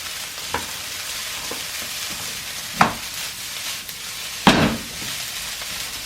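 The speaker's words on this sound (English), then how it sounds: "And then fry it again until it is properly done." Fried rice frying in a pan with a steady close sizzle, broken by a few louder scraping stirs of a utensil against the pan.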